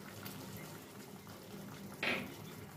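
Water splashes into a pan of frying dry spices and Kashmiri red chilli powder for a paneer aloo curry, giving a brief loud hiss and sizzle over steady low bubbling and crackle.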